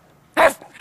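A dog gives a single short bark or yelp after a quiet stretch, followed by the start of a second, close by and fairly loud during a cycling trip.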